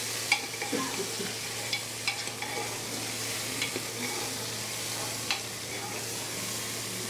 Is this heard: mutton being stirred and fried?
yes